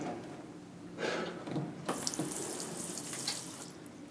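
Water runs from a kitchen tap over an injured finger, a soft hiss that swells to a louder, bright splashing stream partway through and keeps pouring steadily to the end.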